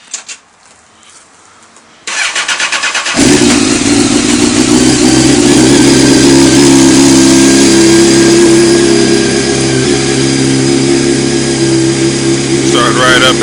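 A Honda CBR 929 motorcycle engine cranks briefly after a couple of seconds of quiet, catches and settles into a loud, steady idle up close.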